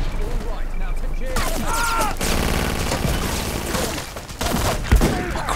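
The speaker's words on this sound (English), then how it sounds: "People are shooting each other." Rapid bursts of gunfire and crashing explosions from the video game Battlefield 2142 fill a busy battle scene, dense overlapping shots and thuds running continuously with a louder impact near the end, a voice talking over them.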